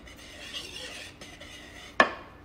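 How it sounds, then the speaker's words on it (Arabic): Sifted flour, baking powder and salt are stirred quickly in a bowl, giving soft, brief scraping and rubbing sounds that end in one sharp utensil clink against the dish. "نخلط كده على السريع"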